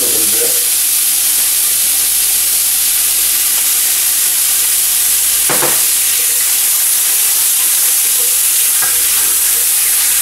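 Meat searing in a pan gives a loud, dense, continuous hiss close to the mic, broken by one brief scraping knock as tomato paste goes in, with no talking.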